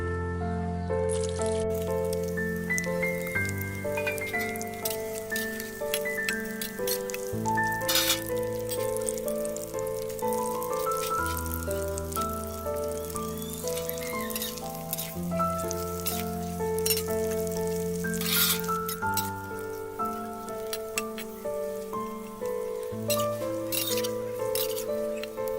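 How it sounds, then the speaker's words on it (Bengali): Onion and capsicum lightly frying in a pan give a steady, rain-like sizzle and patter of tiny pops, heard continuously beneath prominent background music. "এবার পেঁয়াজ আর ক্যাপসিকামটা হালকা ভেজে নেব।"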